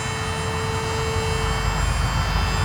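An Aeroscout RC airplane at full throttle gives a loud, close, steady electric-motor whine with a sustained tonal hum and airy noise, alone and unbroken.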